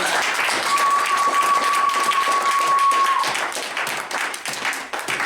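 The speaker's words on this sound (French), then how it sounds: "Acclamons très très fort l'Éternel" A church congregation in Lyon applauding, a dense wash of clapping that holds steady and loud before thinning toward the end, with a steady high tone running through the first half.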